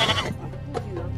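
Goat bleating in the Sahara, a single short wavering bleat up close, loud and alone.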